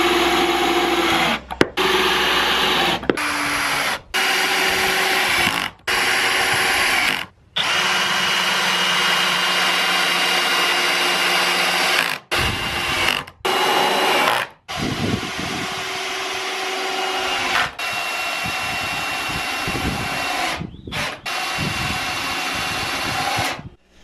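Power screwdriver driving 4.5 mm zinc-plated screws deep into OSB wood panels, a loud whirring drive in repeated long bursts separated by brief pauses, close up with no talk.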